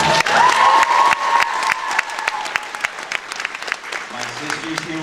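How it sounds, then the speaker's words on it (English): Audience at a comedy show claps loudly for veterans in the crowd, with a few cheers mixed in; the applause tapers off toward the end as a voice begins speaking. "A big round of applause."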